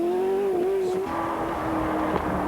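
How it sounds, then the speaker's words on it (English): A Ford GT40 and a Cobra pull away at the start of a hill climb during the 1997 Tour de France Auto classic. Their engines hum steadily with a rising, wavering note, joined by passing engine noise, and some faint background voices. "Off go Merrifield and McElwain in their Ford GT40, followed by the Cobra of Pescarolo and Reeve"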